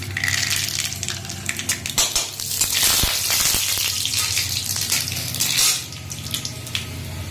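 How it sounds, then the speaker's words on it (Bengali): Mustard seeds sizzle and crackle steadily in hot oil in a pan at the start of cooking a morola fish sour curry, with loud continuous frying hiss and a few sharper pops close by. "এরকম প্রথমে সর্ষে দিয়ে দিলাম"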